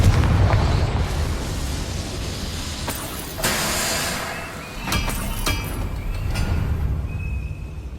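A Confringo fire spell bursts in a Harry Potter video game, a loud booming blast with crackling rumble that lingers. Several sharper pops and impacts follow over a continuous dense game soundscape, with no talk.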